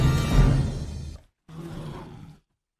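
A bear in the film Dawn of the Planet of the Apes roars as it attacks, two loud, close, growling bursts separated by a short silence.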